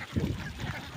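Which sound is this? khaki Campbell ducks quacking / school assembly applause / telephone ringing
khaki Campbell ducks quacking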